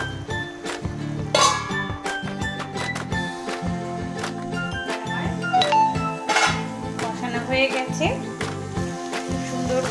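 A metal lid is set over a pan of cooking ridge gourd curry with green chillies, giving bright clinks and clatter near the start over a steady, busy background of tonal sound.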